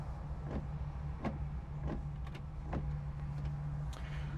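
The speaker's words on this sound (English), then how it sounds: "Wipers function." Windshield wipers on a 1964 Buick Riviera sweep back and forth in a regular rhythm, each pass a soft rubbery swish over a steady low motor hum, fairly quiet and close.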